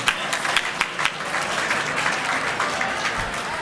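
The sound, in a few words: audience applause at awards ceremony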